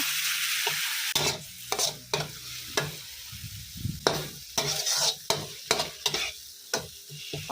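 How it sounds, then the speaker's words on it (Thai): Thai yellow chili paste sizzles steadily in hot oil in a pan while a utensil scrapes and stirs it in quick repeated strokes. "เราก็จะผัดพริกของเราให้สุกเหลืองหอมนะคะ"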